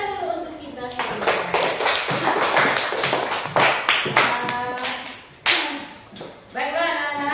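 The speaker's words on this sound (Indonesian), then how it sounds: "Jadi kita kasih tepuk tangan dulu untuk kita semua." A class of fourth-grade children claps together in a school classroom, a dense run of sharp hand claps lasting several seconds with a few brief pauses, close and fairly loud, with voices mixed in.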